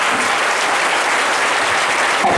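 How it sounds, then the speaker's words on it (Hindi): A church congregation claps loudly in unison during a worship service, a dense, steady burst of applause filling the whole stretch without letting up. "जोरदार ताली बजाकर परमेश्वर जी"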